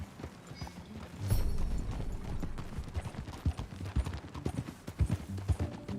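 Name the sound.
horse hooves clip-clop in video game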